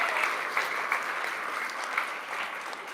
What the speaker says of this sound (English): maybe a round of applause for yourselves